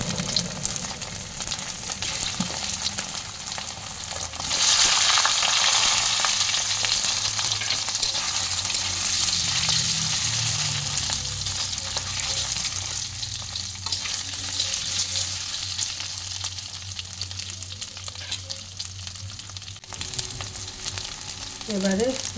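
Boiled potatoes fry in a pan with cumin and asafoetida, giving a loud, continuous, close sizzle that swells briefly near the middle and holds steady, with occasional stirring scrapes and no speech.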